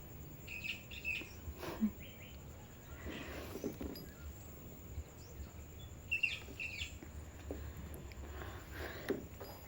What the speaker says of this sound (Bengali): পাখিগুলো ওখানে কেমন খেলা করছে দেখ